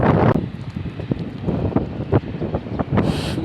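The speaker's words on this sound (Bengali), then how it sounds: "হচ্ছে বাতাস," Strong sandstorm wind in Riyadh rushes and buffets the microphone steadily, with uneven low thumps and gust surges throughout.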